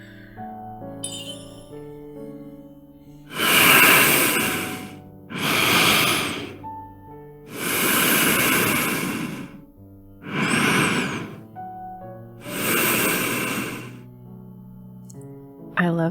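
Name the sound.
Zayne's breathing in the game Love and Deepspace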